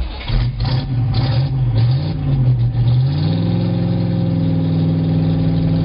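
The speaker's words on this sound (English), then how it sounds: "This is my DeLorean monster truck, and this is what it sounds like when I fire it up." A DeLorean-based monster truck engine fires up and settles into a loud, rough idle, with uneven revving bursts at first, then a steadier drone, close and alone.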